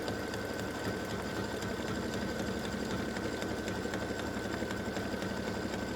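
An embroidery machine runs a triple stitch on an in-the-hoop display project, its needle chattering in a fast, steady, even drone throughout with no voices.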